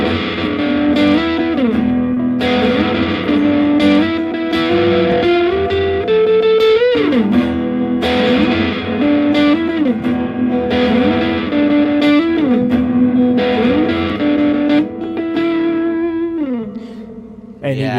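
An electric guitar runs through a volume pedal, with repeated chord swells that fade in and out in a steady rhythm. Notes glide up and down between them. The tone is distorted and reverb-washed, loud and continuous with no talk.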